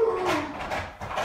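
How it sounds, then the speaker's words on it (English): A dog gives a brief, close whimper, a thin falling whine followed by a couple of soft yelps, in a room during a drone unboxing. "that's my dog."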